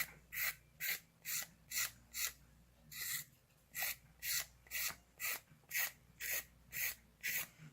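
A nail file with 180 grit rasps across a fingernail in short, even strokes, about a dozen quiet scratchy passes in a steady back-and-forth rhythm.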